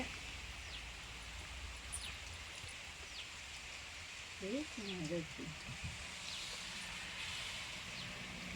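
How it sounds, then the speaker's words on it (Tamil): Rain falls steadily in a garden as a soft, even hiss, with a few faint bird calls and a brief voice-like sound partway through. "பாருங்க எவ்வளோ மழை பெய்யுது பாருங்க மழை பெஞ்சிட்டு இருக்குது"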